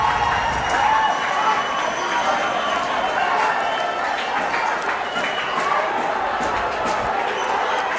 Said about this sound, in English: Back level and listen to the crowd.